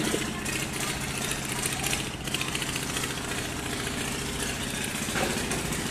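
A trawler boat engine drones steadily at close range near moored passenger launches in Barisal, a loud continuous rumble with a rapid chugging throb throughout.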